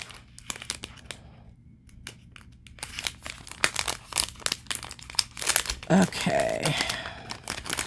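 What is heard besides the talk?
plastic bag being opened and crinkled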